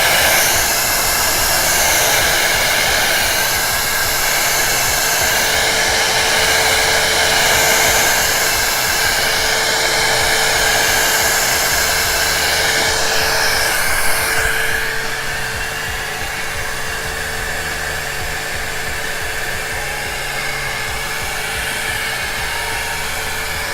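Heat gun blowing steadily on an acrylic dirty cup ribbon pour, a loud continuous airy whoosh with a whining motor tone that drops slightly in level partway through, with no talking.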